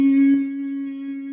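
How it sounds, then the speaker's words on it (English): A steady vocal bee-like hum of Brahmari breathing, one sustained buzzing tone held evenly and close throughout with no talk. "So Brahmari is a buzzing, like a bee humming sound."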